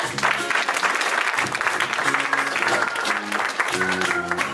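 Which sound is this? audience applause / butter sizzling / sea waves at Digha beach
audience applause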